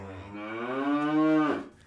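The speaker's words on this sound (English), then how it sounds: "That's the cow I use." A cow moo sample played in Logic Pro X: one sustained, clear low moo of nearly two seconds, heard alone.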